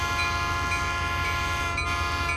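Expreso Oriental passenger train departing a Bolivian station, a steady loud rumble of engine and rolling cars with sustained horn-like tonal drones running throughout.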